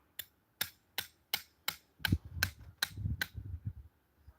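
Pile driver hammer striking a pile on hard ground: nine sharp, evenly spaced metallic blows, with louder low rumbling machinery joining for the last several hits.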